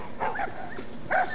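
A dog in the video game The Last of Us gives two short yelping barks, one early and one near the end, over low game ambience.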